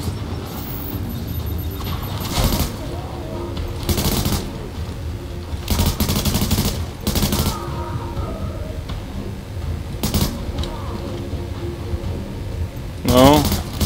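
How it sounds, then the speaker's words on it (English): Gunfire from a hard-kicking gun in The Division at the Hudson Refugee Camp, repeated loud bursts punctuating continuous game noise, with someone talking over it. "I did not realize how much kick this gun had"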